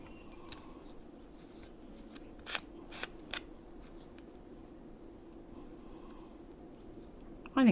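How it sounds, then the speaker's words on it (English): Scissors snip through paper to cut out a paper doll jacket, a few quick close crisp cuts in a quiet room, ending with a brief louder rustle. "Let's cut the jacket out and leave the shirt."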